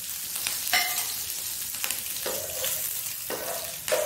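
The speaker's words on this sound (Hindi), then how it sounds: "ऑयल गर्म हो गया तो हम इसमें डालेंगे जीरा।" Cumin seeds dropped into hot oil for an aloo, baingan and tomato curry, giving a soft crackling sizzle with a few sharp pops and bursts spread across a few seconds, fairly quiet and close.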